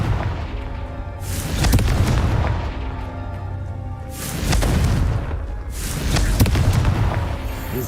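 Three loud Confringo spell blasts from Hogwarts Legacy go off a couple of seconds apart, each a heavy booming burst with a rolling tail, over a steady game backdrop with no talking.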